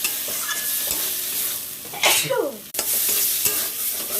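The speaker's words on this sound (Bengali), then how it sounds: "এটা ভালো করে নেড়ে করে কষিয়ে নেব" Spices with turmeric and a splash of water being stirred and fried in oil in a pan, a steady sizzle with scraping stir strokes throughout and a sharp clatter near the end.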